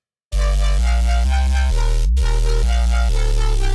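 A Serum 2 synth bass plays a steady run of loud, sustained notes, with one automated glide that bends the pitch smoothly between two notes partway through; no talking.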